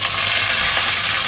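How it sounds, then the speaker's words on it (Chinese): White fish pan-frying in hot oil over high heat, a loud, dense, steady sizzle crackling close up with no voices. "你用大火煎着。 大火。"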